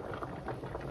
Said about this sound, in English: You don't want that boiling over, right?